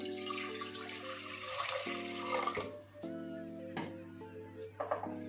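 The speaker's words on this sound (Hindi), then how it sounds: "3 कप पानी डालेंगे इसके अंदर।" Three cups of water run from a kitchen tap into dal in repeated close, steady gushes broken by brief pauses and clinks.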